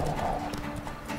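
Horse hooves gallop in The Witcher 3 video game, a rapid, even clip-clop rhythm of close, fairly faint hoofbeats running through the whole moment.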